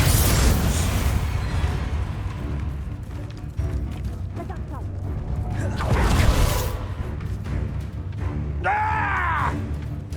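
The Bombarda explosion spell from the video game Hogwarts Legacy makes a heavy booming blast with a rumbling roar that swells midway. It sits among other loud game effects and a creature-like cry near the end.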